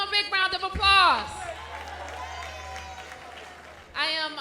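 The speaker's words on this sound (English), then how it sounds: "Give them a big round of applause." Applause and crowd noise at a youth summit, running steadily beneath loud voices and cheering.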